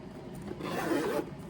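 A zipper on a handmade cosmetic pouch is pulled in one short, soft, raspy sweep that lasts about half a second. Light rustling of the fabric can be heard close by.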